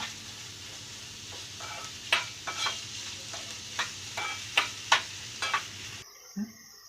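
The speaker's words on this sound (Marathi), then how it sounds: "हा कांदा थोडासा भाजून घ्यायचा लाल होईपर्यंत." Onion and masala frying in a pan for a karela (bitter gourd) fry, with a steady low sizzle broken by sharp scraping clicks of a spoon stirring, fairly quiet and close, with no talking.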